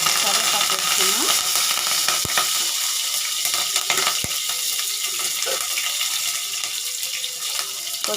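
Mustard seeds and curry leaves dropped into hot oil for a broad bean and small fish curry: a loud, steady close-up sizzle with a couple of sharp pops.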